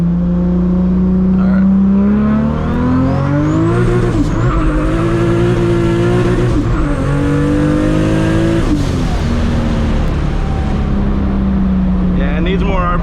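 A 1000HP Toyota Supra MK4 with a new turbo setup pulls hard through first, second and third gears, engine pitch climbing and dropping at each shift, loud and close from inside the car.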